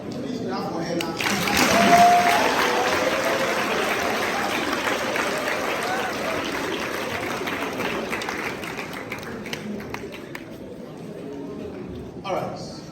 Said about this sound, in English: Please clap for her now.